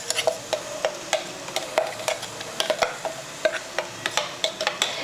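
Ground fresh coconut being stirred into a tempered, salted and spiced Uttara Karnataka kayi saaru, with a spoon tapping and scraping the pan in quick irregular strokes over a faint, soft sizzle and no talking.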